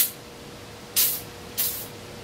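Two short, sharp hisses of lubricant sprayed from an aerosol can onto a wood lathe in a workshop, close and loud, each lasting about a third of a second over quiet room tone.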